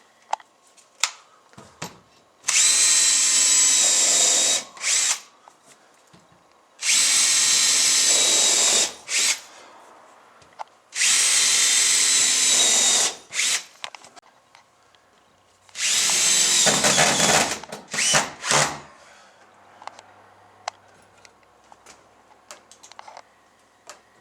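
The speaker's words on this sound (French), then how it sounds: "On fixe la contre-marche par l'arrière, on va visser dans le champ de la marche." A power drill drives screws through the back of a wooden stair riser into the edge of the tread. Four long, loud whirring bursts run close by, separated by short pauses and small knocks, with no talk.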